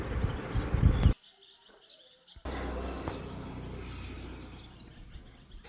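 Small birds chirp in quick, high twitters, fairly close, with a brief pause and then a steady background hiss under continued faint chirping.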